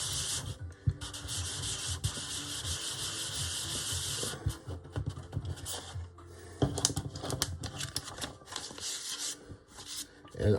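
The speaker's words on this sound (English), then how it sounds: "I'm letting the sandpaper do the work" Wood is sanded by hand with 320 grit sandpaper under light pressure, giving close, dry rasping strokes in uneven bursts with brief pauses between passes.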